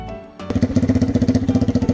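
A Lifan KP Mini 300 motorcycle with a ZS175FMN four-valve engine and custom exhaust, carburetor being tuned, fires up after a brief quiet moment and settles into a loud, close, rhythmic pulsing idle with no talking.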